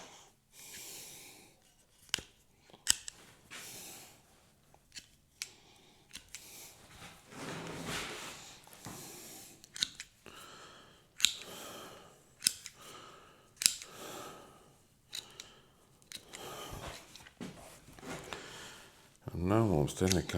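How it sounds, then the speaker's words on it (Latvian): Garden shears snip through leftover jute twine on a woven willow palm, giving sharp, scattered cuts at irregular intervals while a person talks nearby and breathes close to the microphone. "Tad dārznieks šķēriem var griezt auklu."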